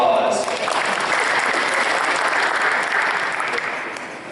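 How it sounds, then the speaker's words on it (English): An audience at a 2020 football awards ceremony applauds in a sustained burst of clapping that fills the room, then gradually tapers off toward the end. "Everybody give Jack a round of applause"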